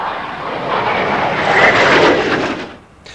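Twin-engine Dassault Breguet Dornier Alphajet flying at the 1990 Farnborough air show, a loud sustained broadband jet roar that swells in the middle and drops off sharply at the end.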